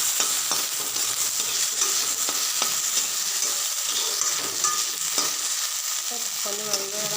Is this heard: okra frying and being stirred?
yes